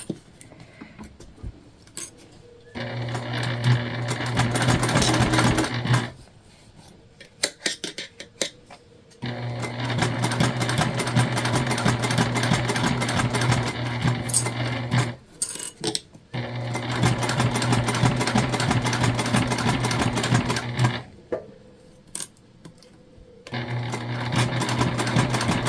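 A sewing machine stitches a pouch made from placemats, running in three long bursts of rapid, rhythmic needle clatter, each lasting several seconds. Short quiet pauses separate the bursts, with brief handling clicks in the gaps.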